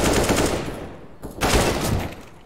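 Gunfire in Counter-Strike on the Inferno map, a loud rattling burst followed by a short pause and then another dense volley, close and sharp with no talk.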